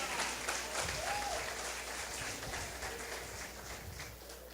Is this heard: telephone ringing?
no